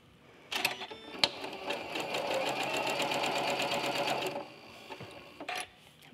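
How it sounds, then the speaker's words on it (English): A sewing machine stitching partway along a quilt seam, a fast, even mechanical whirr running for about four seconds, with a few clicks and handling sounds before and after. "we're gonna stitch halfway, partially through the entire seam"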